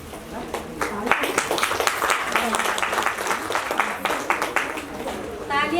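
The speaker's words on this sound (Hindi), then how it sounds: "जोर से बहुत जोर से ताली बजनी चाहिए" Audience applause at a ceremony marking International Women's Day in a Delhi hall, dense and sustained clapping from a crowd that holds steady for several seconds, with voices mixed in beneath it.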